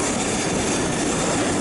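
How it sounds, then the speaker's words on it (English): Steam locomotive 45407 Lancashire Fusilier on the Jacobite Railway crossing a viaduct, heard as a dense, steady rumble and roar from on board the train, loud and continuous with no talk. "managed to get a great shot of the loco as it crossed the viaduct"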